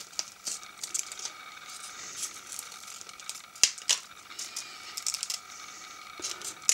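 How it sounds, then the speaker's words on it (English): Scissors snip and crinkle through material close up, in irregular little cuts with one sharper click partway through. "so you can just use a pair of scissors."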